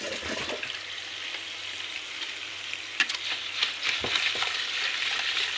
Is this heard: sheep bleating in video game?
no